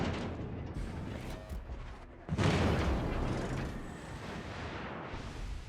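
Naval gun salvo in a warship battle video game, a deep booming blast about two seconds in followed by a long rumbling roar that fades, with steady engine-like background noise.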